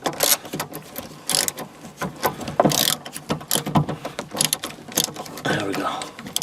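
Ratcheting screwdriver backing out the four small screws of a 1998 Toyota Camry dome light, with quick repeated clicking bursts and mechanical rattles close by, interspersed with someone talking.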